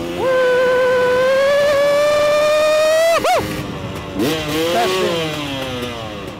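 A KTM motorcycle engine revs loud and close, a steady rising drone that climbs in pitch, cuts out abruptly, then blips and revs again in short bursts as the bike rides off.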